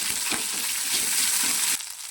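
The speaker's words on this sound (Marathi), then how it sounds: "आणि चांगलं मिक्स करून घेऊ." Tomato cooked soft with ginger-garlic-coriander paste sizzles steadily in a hot pan while a spoon stirs it in regular strokes. The sound is close and loud, with no talking.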